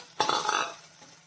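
Chopped tomatoes drop into a hot pan for kurma and get stirred, a single wet clatter and scrape that quickly fades to quiet.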